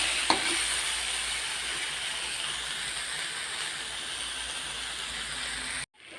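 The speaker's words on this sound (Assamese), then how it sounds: "এয়া মোৰ কলডিলৰ ভাজিখন হৈ গ'ল" Banana flower bhaji sizzles in a pan with a steady, soft frying hiss and a brief clatter near the start, then cuts off abruptly at the end.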